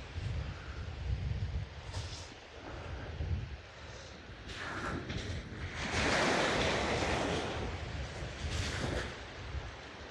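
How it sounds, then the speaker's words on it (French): Small sea waves wash onto the shore at Djerba in soft, repeated surges, fairly close, with light wind and no talking. "J'adore quand c'est des petites vagues comme ça."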